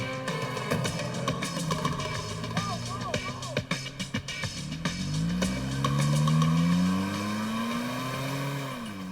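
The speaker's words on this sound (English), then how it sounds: "They escape in her car." A getaway car speeding off after a robbery, with a roaring engine that climbs in pitch as it accelerates, tire noise and rumble, loud and close, mixed with music and sound effects.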